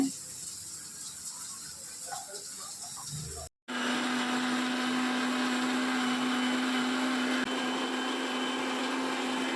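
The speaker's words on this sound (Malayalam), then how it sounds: "തേങ്ങ ഇനി അരച്ചെടുക്കാൻ പോവാണെങ്കിൽ നമ്മൾ വറുത്ത് വെച്ചേക്കേ" A mixer grinder grinds roasted coconut into a curry paste in a home kitchen, starting with a loud, steady, continuous whirring drone after a brief pause, with a low motor hum running throughout.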